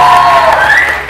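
A studio audience at a TV morning show breaks into a brief, loud wave of applause and cheering for a guest named Madiha, with a rising whoop-like tone over the clapping.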